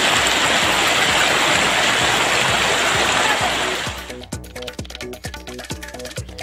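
Kollidam river floodwater surging around villages, a loud, dense continuous rush of flowing water that drops away after a few seconds into lighter splashing and patter.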